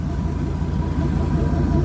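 A 2000 Dodge Ram 2500 4x4 pickup with an 8-liter V10 idles up close, giving a steady, deep, rumbling throb with no change in revs.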